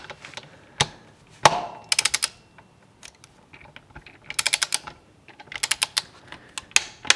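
Ratcheting torque wrench tightening a Kawasaki ZX6R motorcycle wheel to 20 foot-pounds, bursts of rapid clicks in several quick runs with separate sharp snaps between, close and dry.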